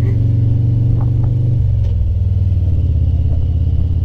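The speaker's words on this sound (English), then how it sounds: "these big ass cars are coming through here, man" Large cars rumbling past on a high mountain road, a loud steady low engine drone with a shift in pitch midway as a vehicle goes by close, heard alone without talk.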